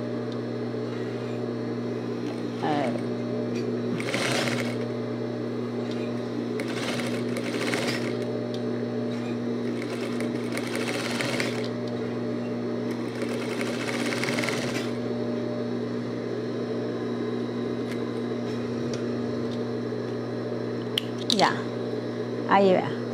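Sewing machine stitching as a simple blouse is converted into a dress, a steady motor hum running throughout with short bursts of faster stitching, while a person talks over it.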